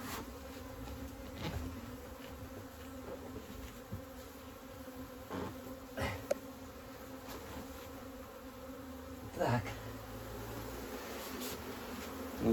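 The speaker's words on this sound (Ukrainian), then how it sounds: "дуже багато бджоли" Steady, dense buzzing of many honeybees close by around an open hive as frames are lifted out, with occasional louder passes and light handling noises.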